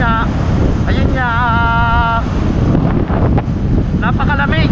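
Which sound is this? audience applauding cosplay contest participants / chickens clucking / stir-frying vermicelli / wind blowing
wind blowing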